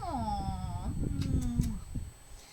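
A cat lets out a long, wavering meow, followed by softer murmurs and a few light clicks, heard close in a quiet room.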